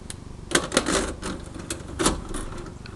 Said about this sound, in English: Let me just put the tape back in.